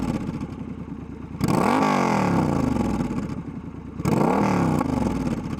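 Triumph Scrambler 1200 XE motorcycle with a slash-cut silencer revved twice, each throttle blip rising sharply from a rumbling idle and then falling back, loud and close with no talk.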